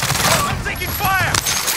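Gunfire in Call of Duty Warzone, a rapid fusillade of loud bursts crackling close by through the whole moment, with a player's voice talking over the shooting.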